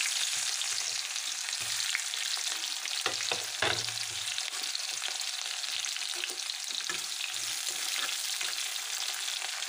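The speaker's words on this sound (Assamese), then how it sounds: "তেলখিনি গৰম হোৱাৰ লগালগ মই পিঁয়াজ দিম।" Onions fry in hot oil with cinnamon, cloves and cardamom, a steady close hiss of sizzling broken by a few soft stirring knocks, with no talk.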